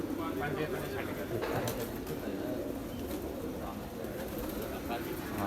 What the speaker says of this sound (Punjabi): ਬਹੁਤ ਕਬੂਤਰ ਆ ਜੀ ਉਰੇ